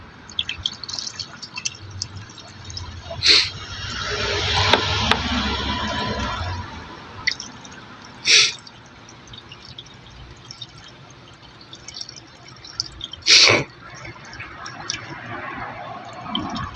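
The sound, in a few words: water being poured into a car's engine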